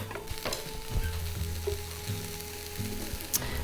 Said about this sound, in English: So it's perfect for cooking your onions in there because it's going to soften up that fond on the bottom